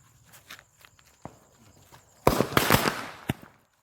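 Firecrackers go off during a Vishu celebration: a few scattered sharp pops, then a loud crackling burst lasting about a second, with a last crack after it.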